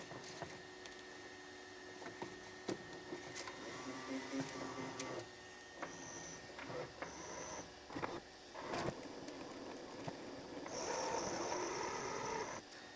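A Bambu Lab X1C 3D printer's AMS struggles to feed a small spool of PLA, giving intermittent mechanical whirring, clicks and motor bursts at close range, with a louder stretch of grinding feed noise near the end.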